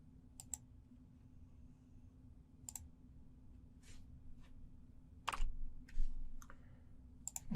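A handful of sparse, sharp keystrokes on a computer keyboard while logging in to a Windows Server 2022 machine, spaced clicks over a low steady hum.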